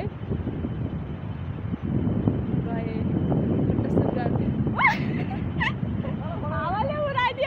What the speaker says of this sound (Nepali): हावाले उडाइदियो मलाई त